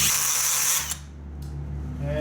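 A power drill fitted with a 5/16 drill bit whines loudly and steadily, then winds down briefly before spinning up again, close by with no talking.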